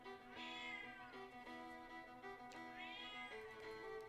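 Meowing from a cat in a video game, a raspy, harmonic meow rising and falling twice over roughly four seconds, clear and close with low game ambience underneath and no talk.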